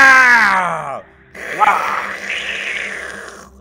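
Voices imitate animal cries in a shaman-style vocal exercise: a loud, falling groaning howl, a brief pause, then a rough, breathy cry that trails off.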